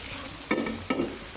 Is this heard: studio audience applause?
no